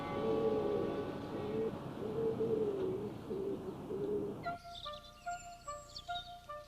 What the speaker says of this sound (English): all urban pigeons are thought to descend from the wild European rock dove, which looks very much like this